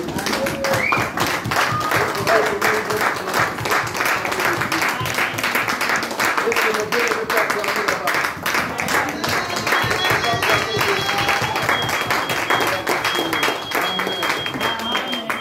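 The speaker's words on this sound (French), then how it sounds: "Est-ce qu'on peut acclamer pour la parole de Dieu?" A church congregation claps and cheers continuously, dense rhythmic applause filling the room with crowd voices mixed in throughout.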